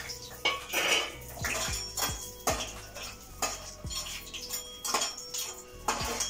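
Potato-starch snacks roasting in a pan over low gas, loud repeated metal clinks and scrapes of a utensil against the pan in an uneven rhythm, close, with soft sizzling underneath and no talk.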